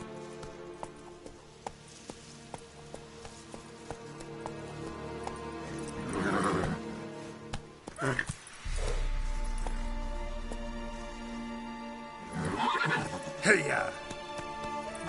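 Roach, Geralt's horse in The Witcher 3, gallops with quick hoof clip-clops and lets out loud neighs and whinnies partway through, while a voice talks over the game audio.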